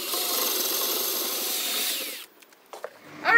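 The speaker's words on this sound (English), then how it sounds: "we took our drill, we drilled in" A power drill bores into a piece of wood, a loud continuous whining buzz for about two seconds, then it stops and a few brief clicks and handling knocks follow.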